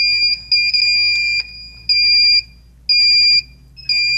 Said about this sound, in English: Three beeps means cell number three.